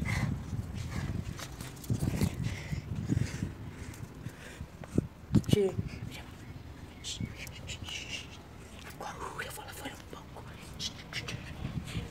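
A pet dog plays and moves around indoors during an afternoon routine, giving scuffling, padding and scattered thumps with a sharper knock midway, all under steady background noise with low, whispery voices.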